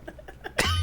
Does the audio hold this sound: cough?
yes